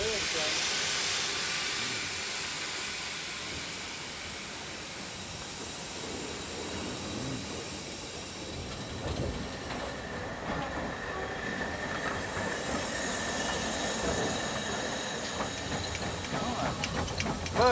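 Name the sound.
Great Western Railway steam locomotive at Didcot Railway Centre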